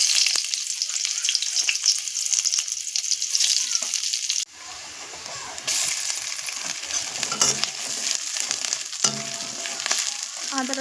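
Chopped onion hits hot oil in a kadai-style wok and sizzles loudly, with stirring and metallic clinks. The frying briefly drops away, then returns strong with scraping and tapping of a utensil against the pan.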